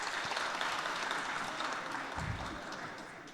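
A church congregation at a Sunday afternoon service claps for a children's choir award, a fairly soft, even patter of many hands that thins slightly toward the end, with no speech over it.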